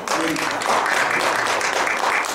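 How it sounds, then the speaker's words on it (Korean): Audience applause during a keynote lecture on teaching and learning at a Korean health college; dense, continuous clapping from a large crowd, loud and sustained throughout. "박수 주십시오."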